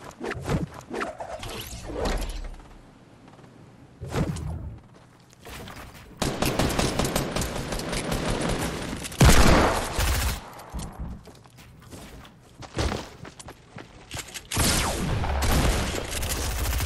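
Desert Eagle pistol fire in a video game, heavy shots in bursts and clusters separated by short gaps, loud and close, with game movement sounds between volleys.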